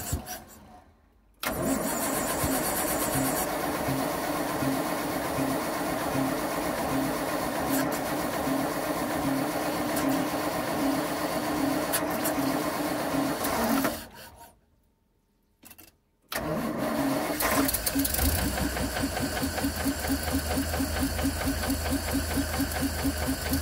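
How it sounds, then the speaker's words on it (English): A car engine fitted with a Zenith 48 VIR carburettor on a mechanical fuel pump cranks with a steady rhythmic starter chug for many seconds. After a short pause and another brief crank, it fires and settles into a loud, close running sound. "And we'll start her up and see what happens. We have to crank it a bit to get fuel into the float bowl"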